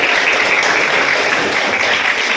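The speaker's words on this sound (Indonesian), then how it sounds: "aplaus dulu" A class of students claps together in a steady, dense burst of applause that stays even and fairly loud throughout, with no voices rising above it.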